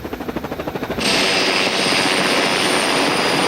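A rescue helicopter lifts off, its rotor beating in a fast rhythmic chop that then swells into a loud, dense turbine and rotor roar that stays close and steady.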